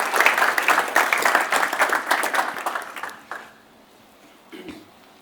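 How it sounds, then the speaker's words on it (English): A conference audience at a robotics and AI event gives a round of applause, dense clapping for about three seconds that thins and fades out, leaving near silence. "Please, round of applause."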